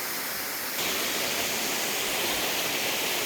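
Steady, loud roar of the Middle and Lower Little Mashel River Falls near Eatonville, Washington: a continuous rush of falling water with no breaks and no voices.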